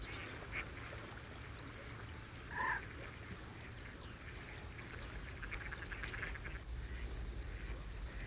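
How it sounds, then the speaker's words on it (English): A single short mallard duck quack rings out partway through, set against a quiet outdoor background of low hum and faint bird calls, at a Spanish lagoon in Villafafila. "There are many common species too, such as mallards, regular visitors to Spanish lagoons."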